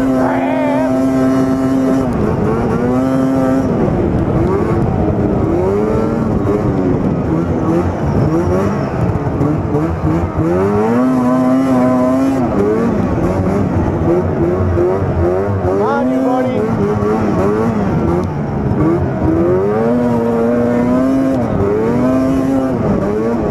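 A snowmobile engine that sat two years in dry storage runs loud and close, its pitch rising and falling through repeated revs and throttle surges over the whole stretch.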